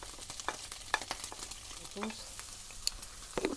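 Minced meat and a chopped medium onion sizzle and crackle in a hot pan, with occasional scraping stirs and sharp pops.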